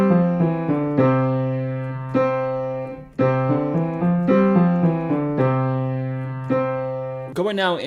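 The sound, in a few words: piano exercise, level 2, played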